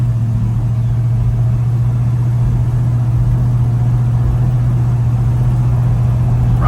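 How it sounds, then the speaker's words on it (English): A 1964 Chevy C10 shortbox pickup with a 350 engine drives along, its exhaust giving a steady, loud low rumble that holds evenly throughout with no voices. "A little bit of a rumble to the exhaust, but nothing obnoxious."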